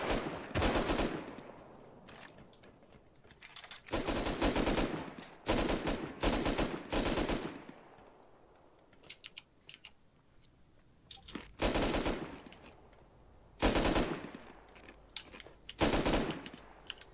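Automatic gunfire in the video game Rust, loud rapid bursts separated by short gaps, with fainter distant shots and quieter moments in between.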